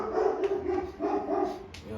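Dogs bark in a quick series of close, sharp barks, several in two seconds, with a whimpering edge.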